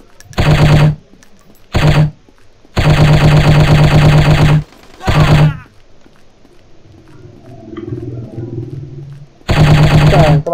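Machine gun fire from the shooting video game Striker, loud close bursts of automatic shots in several long and short runs separated by quieter game ambience.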